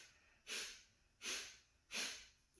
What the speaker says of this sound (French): vous allez commencer à expirer très fortement l'air de vos poumons